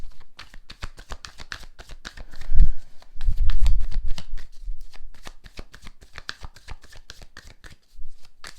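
Tarot cards are shuffled close by in quick riffling bursts of crisp flicks, with a few duller thumps of the deck being handled.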